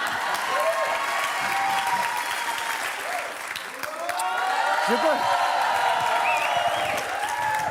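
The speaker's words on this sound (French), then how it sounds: "On l'applaudit très fort, s'il vous plaît." An audience in a television studio applauds steadily, with a dense wash of clapping, a few whoops and scattered voices running beneath someone speaking over it throughout.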